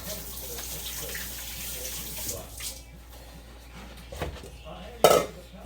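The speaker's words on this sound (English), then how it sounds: "Let me wash this rice off my hands." Tap water runs into a kitchen sink while rice is rinsed off hands, a soft splashing stream with a few dish and cutlery clinks and a sharper clatter near the end.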